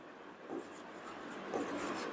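Writing on a board during a chemistry lesson, a faint scratchy stroking that comes in short bursts and grows slightly louder toward the end, with no speech.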